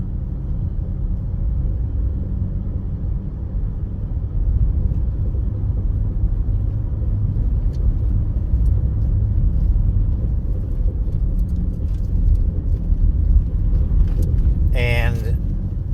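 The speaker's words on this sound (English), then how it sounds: "that fourth gear, it's like, it kind of chugs" A 2019 Ford F-150 drives in fourth gear with erratic, intermittent shifting, giving a steady, close low engine and road rumble that holds throughout, with a short high chirp near the end.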